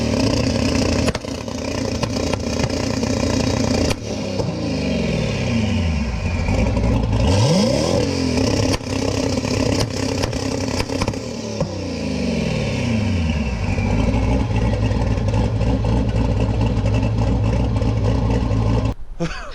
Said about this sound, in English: start this thing up, get it warmed up